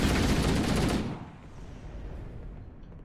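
A loud burst of rapid gunfire in Halo: Combat Evolved lasting about a second, then cutting off to a quiet, low background.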